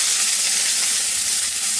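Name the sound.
chopped mango added to hot pan, sizzling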